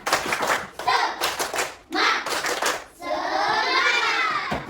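A school class claps together in a quick rhythmic spirit clap, children's voices shouting along, ending in a sustained burst of cheering.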